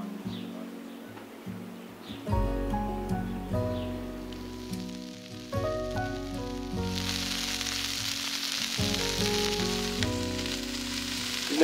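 A double-decker burger with queso sizzles on a griddle with a steady frying hiss, loud and close, growing brighter partway through, with a few clatters over it.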